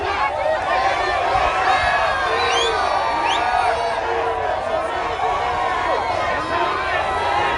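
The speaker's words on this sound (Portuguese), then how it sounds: "Onde ele chega tem uma multidão esperando, aplaudindo, emocionada." Crowd at a political rally in Belém, Pará, cheering, whooping and clapping in a loud, sustained roar, with excited shouts rising above the dense, continuous noise.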